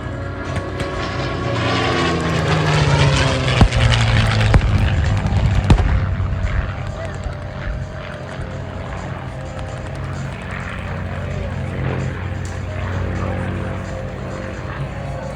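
A P-51C Mustang propeller fighter performing at an air show roars loud and close, its engine drone swelling and sweeping in pitch as it passes, then fading to a steady, more distant rumble.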